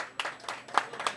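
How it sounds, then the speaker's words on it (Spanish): Scattered claps from a small crowd at a cycling award ceremony, a brief patter of separate hand claps rather than a full ovation. "Fuerte el aplauso"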